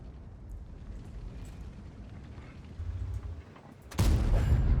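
A tank cannon booms in a World of Tanks battle, a single heavy blast near the end that follows a low rumbling stretch of engine and battle noise.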